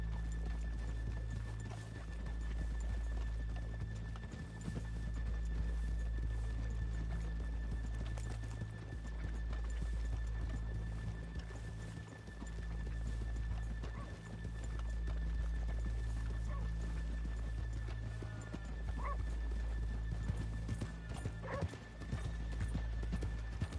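Horses in the video game Red Dead Redemption 2 clip-clop along with steady hoofbeats while occasional whinnies and snorts rise over a low ambient hum.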